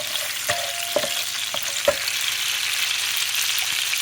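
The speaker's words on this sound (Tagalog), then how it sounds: "Gigisahin muna natin ang ating karne." Garlic and pork sizzle in a hot pan, a steady bright frying hiss with a few sharp stirring clicks and scrapes near the start, close and moderately loud with no talking.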